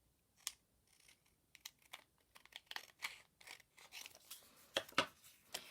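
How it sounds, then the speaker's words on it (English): Scissors snip through paper in a series of short, crisp cuts, irregular in rhythm and close up, with light paper rustling between snips. "this time I'm just going to cut it with my scissors"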